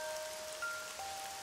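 Steady rain falls in a visual novel game, a soft continuous hiss of rainfall with faint tonal music notes over it, no voices.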